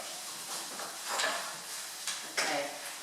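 Bacon frying gently in a pan for a risotto makes a soft, steady sizzle with a few light scrapes and stirring knocks, fairly quiet and close.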